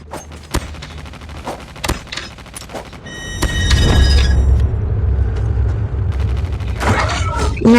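Gunfire in Call of Duty cracks in scattered single shots, then a heavier burst and rumble, close and loud, with a voice speaking at times.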